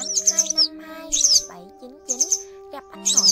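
A yellow wagtail gives a recorded call: bursts of high, sharp chirps repeat about once a second, separated by short gaps, over a steady low tone.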